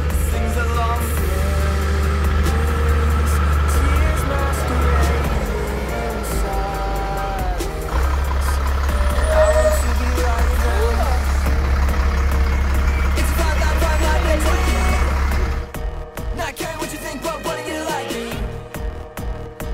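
A truck engine runs close by with a constant deep rumble and mechanical whine. The tone shifts and roughens in the last few seconds.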